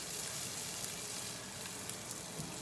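Leftover chicken from skewers sizzles with spices in a pan, giving a steady, dense frying hiss that holds level throughout, with faint pops and crackles rising above it now and then.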